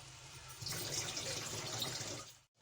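Water is poured from a glass into a pot of vegetable pulao with carrots and capsicum, a short steady splashing pour that stops abruptly.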